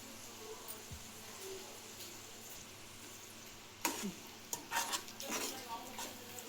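Chili powder being stirred into raw mango pickle in a bowl, a quiet steady scrape of spoon and mixture, with a few sharper clinks and scrapes of the utensil near the end.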